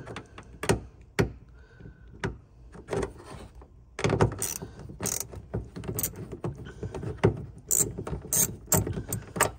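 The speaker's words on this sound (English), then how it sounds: "I'm just going to be using a gimbal ratchet. This is Gear Wrench's gimbal ratchet." Gear Wrench gimbal ratchet with a deep socket unscrewing 10 mm taillight nuts on a Nissan Sentra, a run of sharp clicking ratchet strokes, near and fairly quiet, with denser ticking and faint mechanical clatter in the second half.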